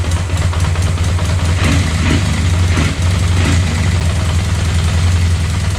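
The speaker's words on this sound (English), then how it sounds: "It's got a clutch noise." Close, loud running engine of a 1982 Honda CB650 motorcycle, a steady low throb with a rattling clutch noise over it, continuing without a break.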